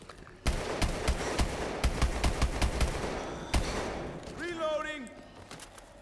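Rapid bursts of gunfire from shooting zombies in Call of Duty Exo Zombies, with loud repeated shots in quick rhythm followed by a lone shot, then a voice and whooshing game effects.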